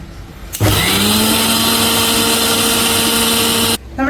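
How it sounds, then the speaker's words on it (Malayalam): A mixer grinder whirs loudly and steadily as it grinds Kerala curry paste with mustard seeds, starting abruptly and cutting off after about three seconds, with no voices. "പിന്നീട് ഒന്നുകൂടി അരച്ചെടുക്കുക."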